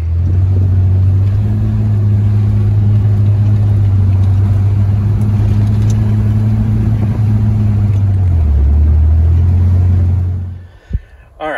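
A Ford Bronco II engine running with a loud, steady low drone that holds for about ten seconds, shifts pitch slightly, then drops away with a few clunks at the end.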